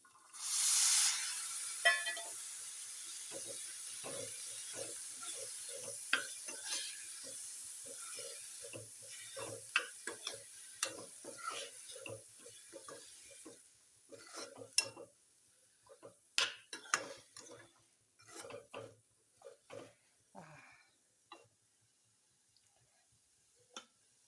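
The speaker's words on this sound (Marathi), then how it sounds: "आता आपण ही टाकून घेऊया फरसबीज छान चिरून धुवून घेतलेली" Chopped, washed French beans go into hot masala in a pan with an initial loud sizzle, then intermittent scraping and clinking of a spoon stirring against the pan.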